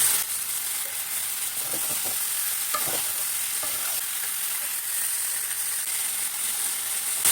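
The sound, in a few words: potatoes and meat frying with onions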